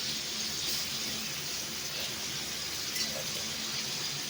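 Water drains off a kilo of meat cooking over a wood-fired stove, a faint, steady hiss and trickle of running liquid with no other sound.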